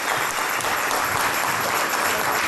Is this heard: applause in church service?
yes